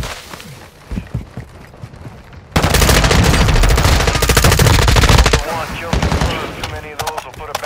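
Gunfire from the video game Call of Duty DMZ: scattered shots, then a loud sustained burst of automatic fire lasting a few seconds, tapering into a few more rapid rounds, with a radio-style voice briefly at the start.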